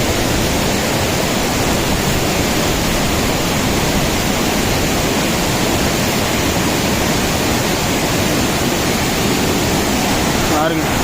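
Rushing water flows beneath a hanging bridge in Valparai, a loud, steady broadband roar that continues unbroken throughout.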